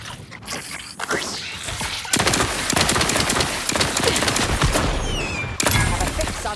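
Dense, loud automatic gunfire and rapid shots echo in a combat scene from the video game The Outer Worlds 2. They come in sustained bursts with short pauses, and voices break through briefly.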